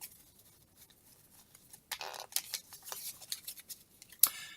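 A deck of playing cards for the Clear the Decks board game is shuffled, quiet at first, then a burst of crisp riffling flicks and snaps close to the microphone, ending in a sharp final clack.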